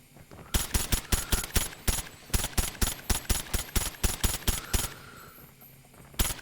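Rapid automatic fire from a MAC-10 submachine gun in the shooter game COD Mobile, a long, evenly spaced string of loud, crisp shots. It stops briefly, then one last shot lands near the end.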